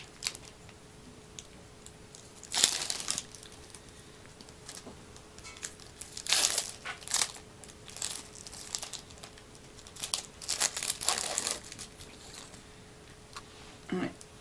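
Plastic syringe packets, one type with a needle and one without, crinkle and tear as they are opened in several bursts of close rustling, with quieter handling between them and a faint steady hum underneath.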